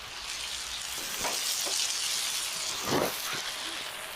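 Bacon sizzling in a pan for jalapeño sliders, a broad, steady frying hiss up close with a few louder crackling surges.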